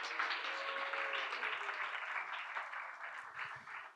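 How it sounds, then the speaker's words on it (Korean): A church congregation at a revival service claps warmly for a young brother, a thick, even wash of applause that holds for several seconds and tapers slightly at the end. "우리 재호 형제에게 큰 박수를 부탁드립니다."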